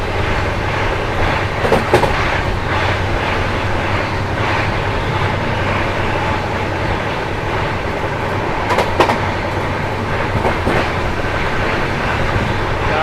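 The Bagmati Superfast Express rolls past at a railway crossing, giving a continuous loud rumble of wheels and carriages with occasional sharper clanks throughout.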